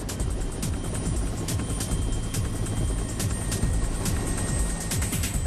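A helicopter carries the end of a long bridge cable from the anchorage to the first tower, giving a loud, continuous rotor thump and engine whine throughout.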